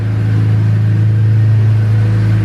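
A K24-engined Acura Integra runs on a dyno, a loud, steady, deep engine drone with a strong low hum, heard close and alone throughout.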